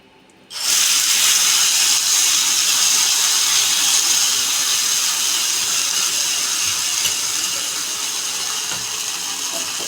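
Cumin or mustard seeds hitting hot oil while a potato dish is cooked: after a brief quiet moment, a sudden loud, steady sizzle and hiss starts and carries on, fading only slightly.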